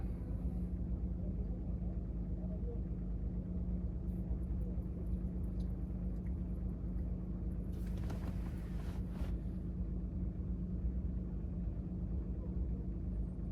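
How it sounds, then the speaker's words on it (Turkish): An Audi A3 engine hums in a steady low drone with continuous road rumble while driving, and a brief airy hiss rises midway. "Arabanın sesini duyuyor musun"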